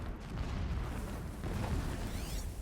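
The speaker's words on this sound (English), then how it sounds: "Explosions in the distance." Dull, muffled booms rumble in the distance beneath a steady low roar, with no voices present, in the video game Horizon Zero Dawn.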